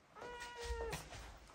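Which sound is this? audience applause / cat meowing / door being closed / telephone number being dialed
cat meowing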